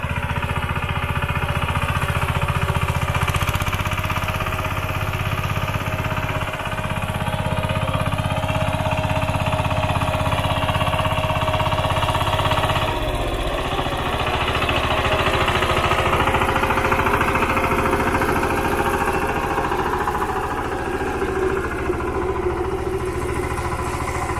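A heavy tractor engine chugs and rattles steadily throughout, loud and close, with a brief thump midway, while ploughing a rice field in Konkan during the monsoon.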